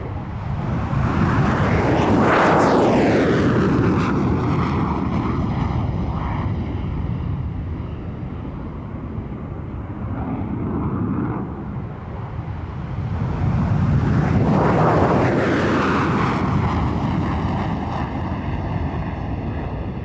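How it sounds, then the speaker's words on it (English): Hungarian Air Force MiG-21 jets in a British air display roar loudly past in two long swelling passes, with heavy wind buffeting on the microphone. "the Hungarian Air Force Sky Hussars, flying 4 MiG-21s"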